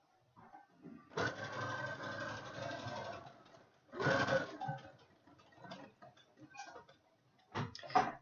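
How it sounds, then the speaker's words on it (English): Sewing machine stitching the edge of a fabric face mask with a zipper foot, running in steady bursts of rapid needle ticking, a long stretch, a pause, then shorter runs, close by with no talking. "just lift the zipper foot, flip it around, and now you're going to sew"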